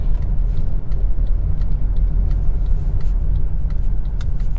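A car engine heard from inside while driving through traffic, as the accelerator is pressed and released, giving a loud, close, continuous rumble that swells and eases slightly over several seconds.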